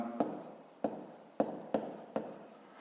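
A pen scratches across paper in five short, distinct strokes spaced roughly half a second apart, close and clear with no voices.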